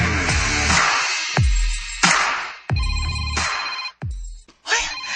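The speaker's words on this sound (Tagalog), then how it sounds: "Ibagting sa pang telepono." A telephone rings loud and close in a residence, its electronic ring repeating in several bursts with short gaps and no voices over it.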